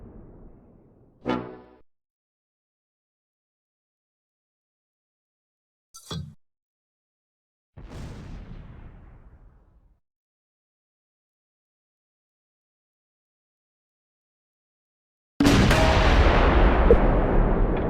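Tank cannon fire in the World War II game Close Combat 4, with isolated sharp booming shots separated by silence, some ringing out with a decaying tail, ending in a sustained loud rumbling blast.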